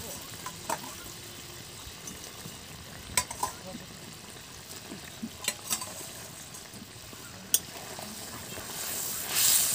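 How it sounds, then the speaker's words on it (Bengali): Fish curry in a mustard-poppy gravy simmers in a pan while a spoon stirs it, with soft bubbling under scattered sharp scrapes and clicks, and a louder burst of sizzling near the end. "একটু ভালো করে মিশিয়ে নেবো, যাতে গ্রেভিটা মাছের মধ্যে ঢুকে যায়।"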